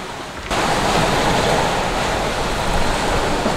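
Rough, huge seas pounding a sailing vessel on the way to Cartagena, Colombia, a loud, broad roar of surf and wind that swells in abruptly after a half-second and then rushes on without a break.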